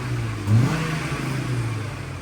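A car engine revs briefly after an exhaust piping change on a K24-powered project car, one short rise and fall in engine pitch over a steady idle, close and moderately loud.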